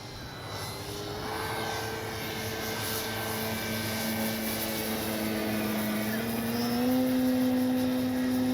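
A Hangar 9 J-3 Cub 10cc radio-controlled plane cruises overhead, its small engine giving a steady buzzing drone that rises in pitch toward the end, fairly distant, with wind noise and no talk.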